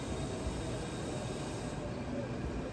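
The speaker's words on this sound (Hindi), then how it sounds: "फिर हमारी मेट्रो आ गई।" A Delhi Metro train pulls in, a steady, distant rumble with hissing wheel and track noise, fairly faint and unbroken, with no voices.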